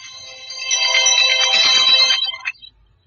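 A phone alarm sounds as a bright, tonal ringtone melody that swells over about two seconds and then cuts off abruptly, fairly close and clear with little else around it.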